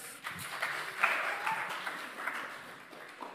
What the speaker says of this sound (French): Bravo, on l'applaudit.